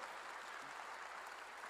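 Church congregation applauding together, a steady dense wash of clapping throughout, moderately distant and even with no pauses.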